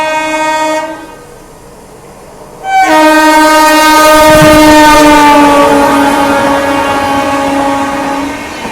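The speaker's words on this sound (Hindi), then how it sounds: "ये गई डिब्रूगढ़ राजधानी बढ़िया रफ्तार में" The New Delhi–Dibrugarh Town Rajdhani Express passes at speed, close and loud. A horn blast cuts off briefly, then a long sustained horn sounds over a rushing rumble of the train going by.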